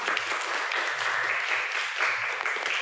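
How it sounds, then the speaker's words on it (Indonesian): Steady applause from a class of students for a presenting group, a continuous wash of clapping that holds at even loudness throughout. "beri tepuk tangan plus untuk kelompok"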